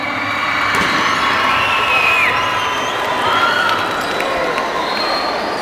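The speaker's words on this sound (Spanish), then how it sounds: "Recibamos nuevamente con fuertes aplausos al profesor Denis" A school sports ceremony audience applauds and cheers for a teacher at the regional school games athletes' swearing-in, with loud sustained crowd noise, shouts and whistles blending into a continuous roar.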